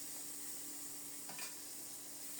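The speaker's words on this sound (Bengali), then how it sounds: "বরবটি আর কাঁচামরিচও ভাজা হয়ে আসছে" Long beans and green chilies fry in a pan with a steady, soft sizzle and faint crackle, a brief stir or splash breaking through midway; no talking.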